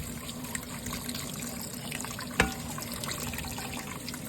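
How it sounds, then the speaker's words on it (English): Tap water runs steadily over browned hamburger meat to rinse off the grease, a continuous close splashing flow with one brief knock partway through and no talking. "We're going to rinse off all that grease."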